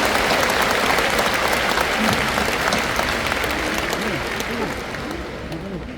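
Large church assembly audience at a denominational anniversary celebration bursting into loud, sustained applause, dense clapping that fades slightly toward the end, with voices calling out underneath.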